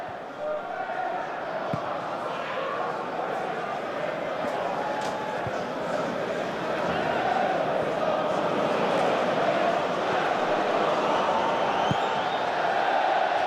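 A big Hull City football crowd of close to 25,000 at the KC Stadium roars in a steady, dense wall of cheering and chanting that swells slightly. It sounds distant and broad, with no single voice standing out.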